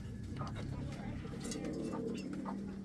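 Pigeons in a loft, with soft low cooing repeating close by over a continuous hum of background noise, with no voices.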